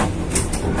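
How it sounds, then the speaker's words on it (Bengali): The Darjeeling toy train runs through jungle near Ghum station, a brief close rumble of wheels and carriages with a couple of sharper rattling clacks. "জঙ্গলের মধ্য দিয়ে টয় ট্রেন যাচ্ছে"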